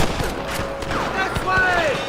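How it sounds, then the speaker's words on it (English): Gunfire in the video game Red Dead Redemption, a rapid run of shots cracking over a dense background of game noise with shouted voices mixed in. "Rustler guard! Gun them down!"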